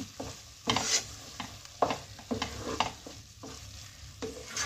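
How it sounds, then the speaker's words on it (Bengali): Ghee being stirred into carrot halwa in a pan, with a spoon scraping through the thick mixture in repeated strokes and a soft sizzle underneath, close and fairly quiet. "এবার এটা ভালোভাবে মিলিয়ে দিলাম হালুয়ার সঙ্গে"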